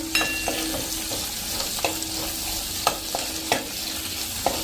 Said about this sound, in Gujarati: એની કચાશ દૂર થાય ને ત્યાં સુધી કૂક કરશું કાંદા લસણની